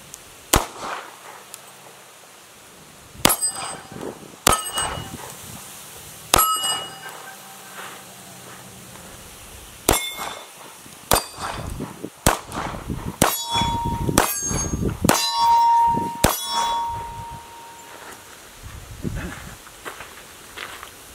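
Shots from a Stoeger Cougar .40 S&W pistol fired outdoors: a dozen or so sharp, loud cracks, spaced irregularly, some in quick pairs, with metallic ringing and faint background noise between shots.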